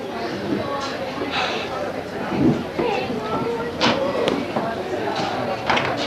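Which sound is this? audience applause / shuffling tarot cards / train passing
train passing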